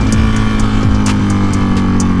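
A Harley-Davidson Iron 883 Sportster motorcycle engine at full throttle, a loud, close, continuous roar with rising pitch, heard while riding and with no voices.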